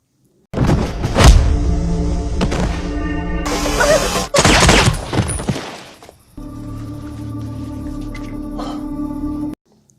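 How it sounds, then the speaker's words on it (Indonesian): Gunfire rings out in a dramatic film scene, with loud, sharp shots and crashing impacts over a musical score. A sustained tonal music passage follows. "Maninder berhasil menembak mati Natasha dan mengambil semua yang ia inginkan"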